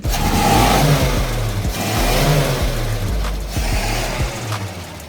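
A restored 75-year-old truck engine revving hard in repeated surges, loud and close, with deep throaty rumble rising and falling several times.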